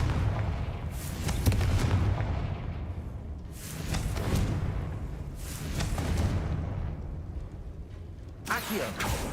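Confringo spells going off in Hogwarts Legacy: four heavy explosive booms a couple of seconds apart, each a loud blast that rumbles and fades, with the last one sharper and cut short.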